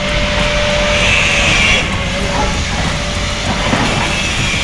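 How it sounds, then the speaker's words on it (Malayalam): A long goods train rolls past with a continuous heavy rumble and rattle of wagons, loud and close, its steady roar easing slightly partway through, with a faint whine over it. "ഒരു ഗുഡ്സ് ട്രെയിനിൻ്റെ എന്താ ലെങ്ത്, എത്ര ബോഗികളാന്ന് നോക്കി."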